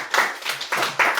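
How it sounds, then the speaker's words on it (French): An audience claps at a French-speaking church gathering, with a short run of dense, overlapping hand claps rising in a few quick swells, fairly loud and close, with no talking. "Est-ce qu'on peut acclamer?"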